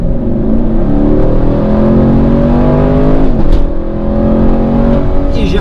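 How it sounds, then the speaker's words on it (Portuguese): A 2020 Chevrolet Camaro SS accelerates hard from 60 to 120 km/h, its V8 engine droning loudly and steadily from inside the car with rising harmonic tones and one brief shift-like dip midway, no voices present. "vou acelerar novamente aí o Camaro até aí os seus 120 por hora"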